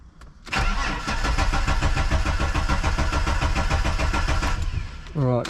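A Ford BA XR6 fitted with a custom exhaust cranks and fires after sitting unused, settling into a loud, rough, close-up idle with a steady pulsing beat for several seconds before cutting out; a voice speaks briefly at the end.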